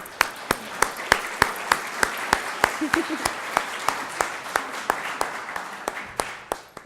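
An audience claps for a female award recipient, Dr. Diana Becket, at a 2014 distinguished awards ceremony. The sharp, evenly spaced claps sound fairly close, and a brief voice passes under them midway.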